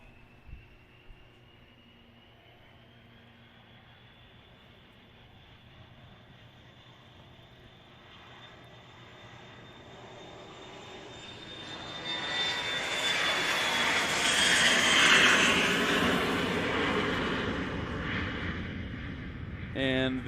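Jet engine spooling up for departure at Pinedale, Wyoming airfield during STOL practice, a steady rising whine that swells into a loud roaring rush toward the end, with faint talk beneath.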